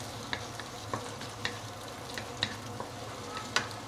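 Maggi mee goreng with egg and prawn is stir-fried in a pan, giving soft sizzling under a series of sharp spatula scrapes and clinks against the metal at an irregular pace. The scene is quiet and close, with no talking.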